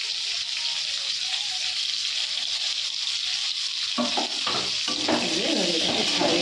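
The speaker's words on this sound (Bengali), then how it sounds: "দিয়ে পেঁয়াজটা দিয়ে দেবো, তার সঙ্গে কাঁচা লঙ্কা আর ক্যাপসিকাম কুচিটা দিয়ে দিলাম।" Chopped onion, green chilli and capsicum tipped into hot oil in a pan, a steady sizzle that swells midway as the vegetables go in, followed by close stirring and scraping sounds.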